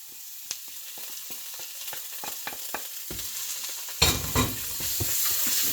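Chicken fried rice with seasoning is stirred in a hot pan, with a soft sizzle under scattered scraping and tapping of a utensil, then a louder burst of frying and mixing near the end, close by.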